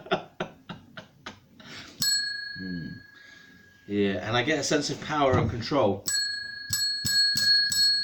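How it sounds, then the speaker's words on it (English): A ring-for-service bell is struck in a quick run of sharp dings, then rings again with a sustained tone between bursts, while someone talks in between and over it. "I do prefer it when it is ringing"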